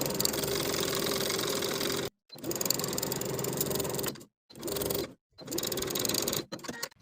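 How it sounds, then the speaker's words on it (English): A sewing machine stitches a linen shirt collar to the neckline in close, steady whirring runs that stop abruptly several times for short pauses between bursts. "Now I'm going to sew the collar to the neckline from one edge of the collar straight across to the opposite"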